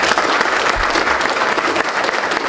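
Crowd applause for the speakers at a Python conference recruitment session, a full, steady burst of many hands clapping at close, loud level throughout the short stretch.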